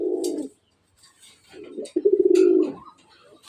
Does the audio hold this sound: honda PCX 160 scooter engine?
no